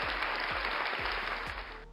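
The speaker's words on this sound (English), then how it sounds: "So a big clap for Tal for doing that." Dense applause from a crowd, steady clapping that fills the short stretch and tails off slightly at the end, with no voices.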